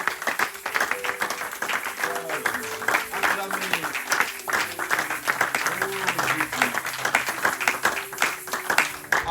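A church congregation claps for Jesus in steady, rhythmic applause, dense and close, with voices singing and calling out over the clapping throughout.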